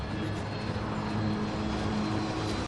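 An airplane's engine drones in a steady, dense roar, loud and constant throughout with a faint low hum running under it.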